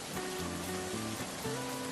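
Steady, dense rain falling at a railway station, a continuous close hiss of drops striking surfaces, with faint tonal music beneath and no talking.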